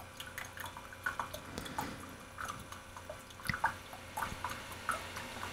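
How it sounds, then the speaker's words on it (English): Water trickles and drips irregularly from a Keurig coffee maker under repair, with scattered small splashes and soft clicks, close by and quiet, no speech. "Just trickling out of there."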